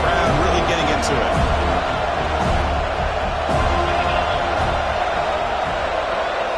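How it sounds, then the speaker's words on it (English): Stadium crowd in the college football video game NCAA 26 roaring steadily through a third-down play, a dense continuous wall of cheering and noise with faint thumps. "3rd down and the crowd really getting into it."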